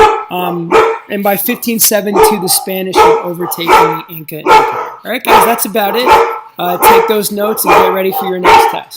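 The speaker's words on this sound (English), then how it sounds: "Sorry about my dogs." Dogs bark repeatedly in the background while a man lectures continuously over them, the barks mixed with and partly masked by his voice.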